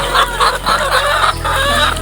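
Several chickens cluck steadily and close by, with repeated short calls over a constant low farmyard hum.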